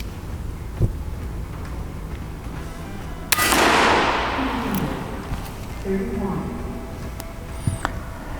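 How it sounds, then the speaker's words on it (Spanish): A single sharp shot from an FX Impact Power Plenum PCP air rifle cracks out close by, its burst quickly decaying, with faint voices murmuring around it. "el primer disparo que vamos a hacer con ella"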